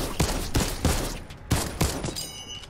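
Kar98 rifle in Fortnite, five sharp, loud shots spaced roughly a third of a second apart, each ringing briefly before the next, with no talking over them.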